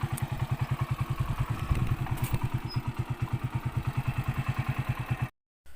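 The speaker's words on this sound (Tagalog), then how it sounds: "yung motor ko nagiging pang bukid na talaga" A motorcycle engine chugs steadily over a farm field, a regular low thumping pulse with rattly clatter, close and continuous, with no talk.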